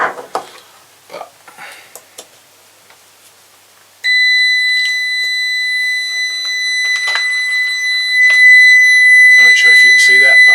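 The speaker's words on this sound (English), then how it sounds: "There's my little continuity tester." Electronic continuity tester sounds a loud, steady high-pitched tone close by, held unbroken for several seconds after scattered handling clicks and knocks, while checking parts of a barn-find Jinlun 125 Chinese motorcycle.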